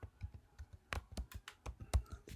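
Keystrokes on a computer keyboard during work in Maya 2024, a quick irregular run of close, crisp clicks of varying loudness, with no voice over them.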